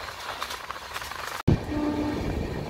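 A Konark Express train runs on the East Coast line with a loud, steady rumble, broken by a sharp cut and a thud, then a sustained horn-like tone over the clatter.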